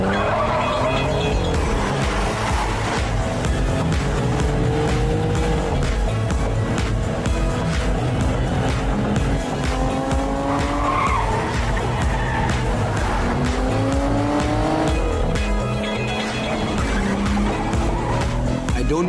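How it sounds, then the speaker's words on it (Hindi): A sports car drives hard with tires squealing, its engine revving and shifting pitch continuously over a loud, steady roar, with long screeching skids rising and falling throughout. "मैं उस कार की बात कर रहा हूँ।"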